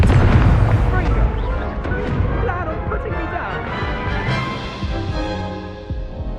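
Incendio fire spell in the Hogwarts Legacy video game, a heavy whooshing burst of flame layered over dense rumbling battle sounds and booms, loud throughout.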